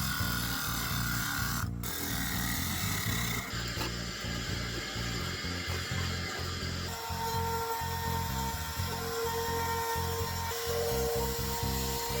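A router whines continuously at high speed as it cuts into a wooden cigar box lid, its pitch shifting slightly partway through, close up and unbroken.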